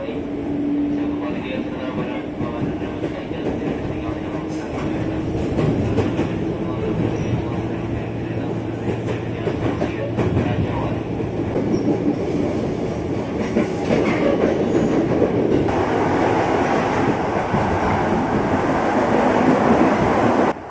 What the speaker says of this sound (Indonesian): Kereta kita melaju cukup ngebut dari stasiun Kemayoran menuju stasiun Rajawali